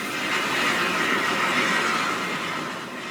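A Welsh narrow gauge steam railway train runs with a steady, loud, broad rumble and hiss that holds close and even throughout, with no voices.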